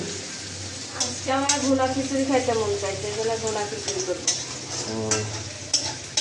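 Bhuna khichuri sizzles and fries in a pan while being stirred, a constant close crackle with scraping strokes underneath, as voices talk over it almost the whole time.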